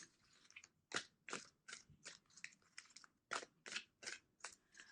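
A tarot deck is shuffled by hand in quick bursts, about a dozen crisp, close card riffles and slaps at an uneven rhythm, fairly quiet with no talking.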